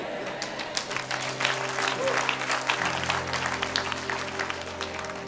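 A church congregation applauds and cheers throughout, dense clapping mixed with scattered shouts and a sustained hum of the hall, loud and continuous.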